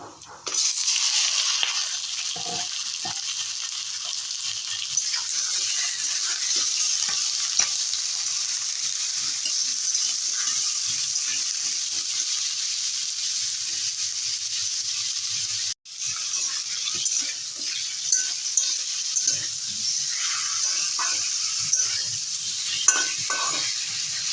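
Chicken frying in a pan for chicken soup, a loud continuous hissing sizzle that briefly cuts out midway and resumes, with faint scraping beneath.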